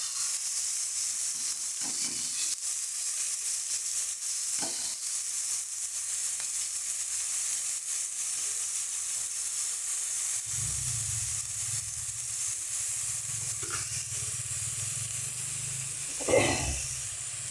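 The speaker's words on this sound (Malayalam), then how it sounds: "എണ്ണ ചൂടായിട്ടുണ്ട് അതേ കുറച്ചിട്ട് കൊടുക്കാം കുറച്ച് കൊഞ്ചതിലിട്ടിട്ടുണ്ട് നന്നായിട്ട് ഫ്രൈ ചെയ്തെടുക്കാം" Prawns sizzle in hot oil in a pan, a steady close hiss throughout with a deeper bubbling crackle swelling in later and a brief louder spatter near the end.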